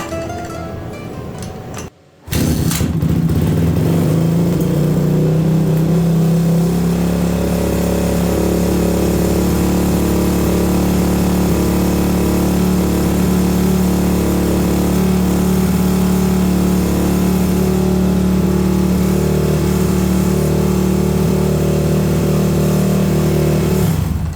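A Honda CRF450R dirt bike engine fires up after a brief pause and settles into a steady, loud, close idle that runs on continuously without talk.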